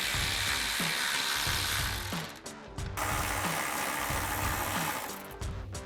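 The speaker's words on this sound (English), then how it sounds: "I am going to loosen the other nut on camera" A ratchet with a 12mm socket loosens a nut on a 2024-2026 Toyota Tacoma, producing rapid, regular clicking pawl strokes up close, pausing briefly midway before resuming, with no speech.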